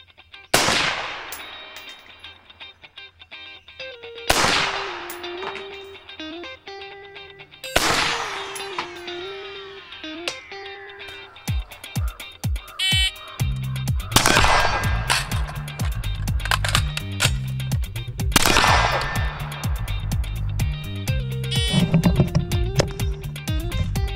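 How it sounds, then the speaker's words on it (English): Rifle shots from a Radian Model 1 with a 17.5-inch barrel: a series of sharp, loud reports, widely spaced at first and then coming faster, each with a ringing metallic tail. "I'm gonna go ahead and actually get it zeroed and do some shooting with it."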